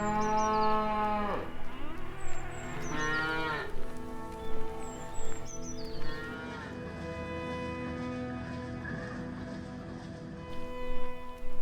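Dairy cows on an Irish farm moo repeatedly, with several long, loud, close bellows overlapping one another and a lowing herd carrying on between the calls.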